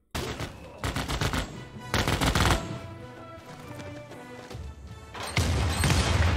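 Artillery in Civilization VI fires in bursts of booming, crackling gunfire, several loud volleys in quick succession over a backdrop of game music.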